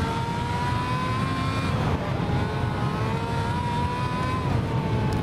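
A Formula A race car engine in the racing game Grid Autosport holds a loud, steady high-revving whine with layered harmonic tones, shifting briefly in pitch partway through.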